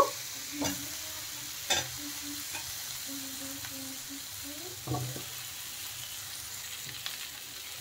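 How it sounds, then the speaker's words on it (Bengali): Fried cauliflower goes into hot spiced oil in a home kitchen pan, with a steady low sizzle and a few sharp spoon scrapes and stirring knocks close by. "এখন আমি ভেজে রাখা ফুলকপিগুলো দিয়ে দেব।"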